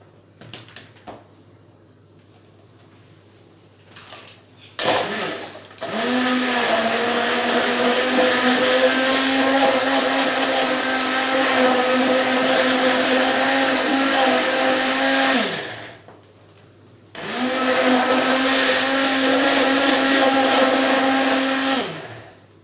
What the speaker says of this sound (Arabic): وغادي نضرب كل شيء في هذا الخلاط.